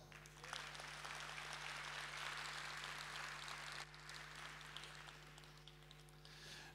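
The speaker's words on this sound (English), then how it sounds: "let me hear by your applause." An audience at an international well-being and sustainability forum in Bangkok applauds, a steady dense wash of clapping that fades near the end, heard without talk.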